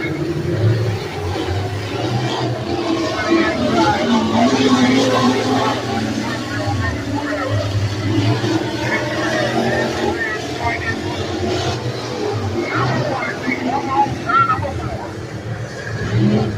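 Outlaw street stock race cars battle for the lead at Beckley Motor Speedway, a steady loud engine roar sustained throughout with an announcer talking over it.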